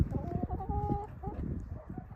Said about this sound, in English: Our other challenge is the rooster.